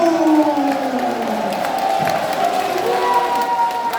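Large crowd at a Korean political rally cheering and clapping, a sustained loud roar of voices with whoops over continuous applause, no speech on top.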